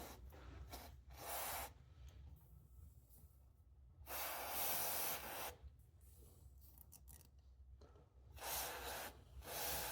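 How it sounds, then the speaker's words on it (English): Freeze spray hisses onto tape on a Gottlieb North Star pinball machine in three close, quiet bursts of airy spraying, separated by short pauses of near silence. "I've got some freeze spray."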